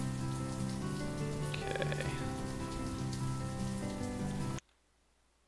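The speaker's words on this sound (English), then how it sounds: "I wish it would stop raining so you guys could actually see the game" Steady rainfall in the city-building game Banished, a dense continuous patter on surfaces that holds for several seconds before cutting off abruptly to near silence, with a brief spoken word.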